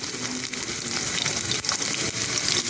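Garlic sizzles in a hot pan with capsicum, a close, steady crackling fry with a few brief stirring scrapes and no voices.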